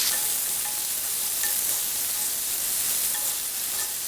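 Sliced medium tomato sautés in a pan for Chettinad chicken gravy, giving a steady, close sizzle and frying hiss with faint stirring throughout.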